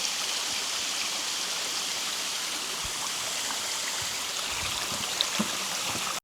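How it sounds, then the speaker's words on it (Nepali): A steady, full rushing roar of the Kritou Tera waterfall, continuous and fairly close, with no voices. "यतापट्टि चाहिँ झर्ना छ"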